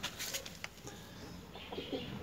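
Pedrez roosters and chickens on a home farm give faint, scattered clucks against a soft background. No one speaks.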